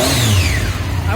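A 2020 Triumph Speed Triple motorcycle engine revs loudly and close by, with a falling, whining pitch over a steady low rumble. The burst is brief.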